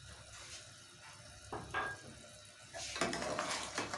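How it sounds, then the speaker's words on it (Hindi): Whole green chillies dropped into frying masala for anda chana curry, with a steady soft sizzle, a few spoon stirs against the pan, and the frying growing louder near the end. "अब मैं इसमें ये साबित हरी मिर्चें डालूंगी"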